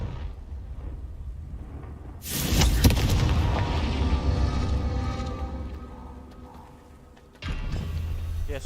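Loud blasting-spell explosions from Hogwarts Legacy, a deep booming burst that swells and rumbles for several seconds, then a second heavy blast near the end.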